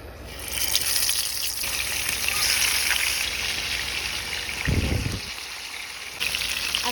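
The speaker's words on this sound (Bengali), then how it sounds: "তেলাপিয়া মাছের ফ্রাই হবে" Tilapia fish fries in hot oil, a dense, loud, continuous hiss that swells and shifts, with a brief low thump midway; no voices.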